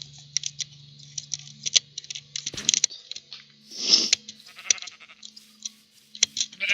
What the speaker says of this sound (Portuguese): E eu tô num bioma que tem muita ovelha.